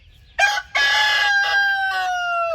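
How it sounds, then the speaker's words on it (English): A rooster crows on a farm: one loud, close, ringing cock-a-doodle-doo lasting about two seconds after a short opening note, heard alone with no talking. "I'm pretty sure that one's a hen and that one's a rooster now"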